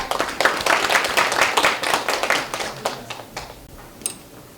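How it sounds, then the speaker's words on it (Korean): Audience applause at a meditation conference opening, brisk, close clapping from a gathered crowd that gradually thins out, with a few scattered final claps trailing off. "박수 부탁드립니다"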